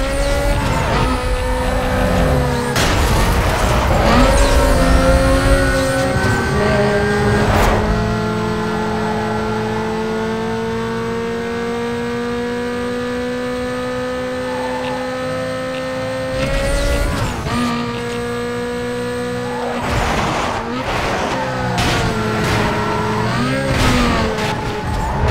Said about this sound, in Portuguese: Essa Lamborghini anda